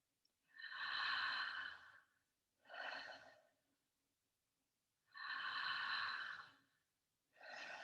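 Slow, deep breaths during a breathwork session: two full inhale-exhale cycles, each a long, soft airy draw followed by a shorter release, close and quiet with silent pauses between.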